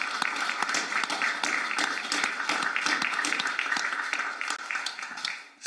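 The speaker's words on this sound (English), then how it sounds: "Can we just give a round of applause for those girls?" A round of applause fills a city council meeting room: many hands clapping steadily and fairly close for several seconds, then the clapping fades out near the end.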